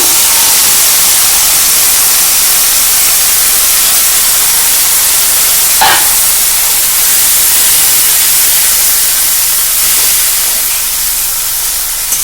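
Loud, steady sizzle and hiss as boiled, drained greens are added to hot frying spices in a pan, continuous throughout with a slight sharp spike midway.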